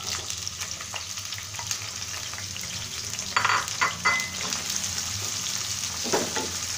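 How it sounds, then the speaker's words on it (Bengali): Onions fry in hot oil with cinnamon, bay leaf and cloves for beef liver bhuna: a continuous close sizzle with intermittent scraping stirs of a spatula against the pan, no voices. "আমরা পেঁয়াজটা হালকা ভেজে নেব,"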